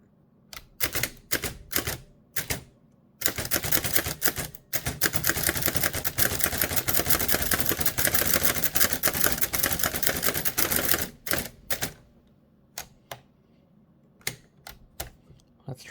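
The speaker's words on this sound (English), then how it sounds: "Let me also check on the line spacing setting." A Hammond Multiplex typewriter clatters through a run of keystrokes: a few separate strikes, then a long dense burst of rapid typing, then scattered single taps trailing off, close and alone.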